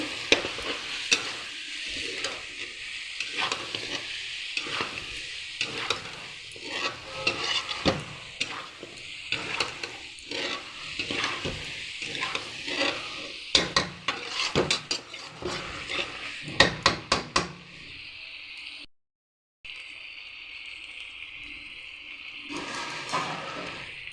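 Mutton frying in a pan with ginger garlic paste, stirred with a utensil that scrapes and clinks against the metal in a steady rhythm over a constant sizzle, fairly quiet, with a brief pause near the end.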